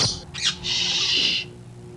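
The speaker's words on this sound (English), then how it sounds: "One of these is full of real live birds." Real live birds give loud, harsh squawks up close, a short call followed by a long sustained screech, in a Hitachi Ultravision TV commercial.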